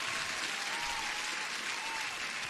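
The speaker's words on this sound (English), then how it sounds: "Huge applause." Steady, dense applause from a crowd rolls on without a break, even and fairly loud throughout.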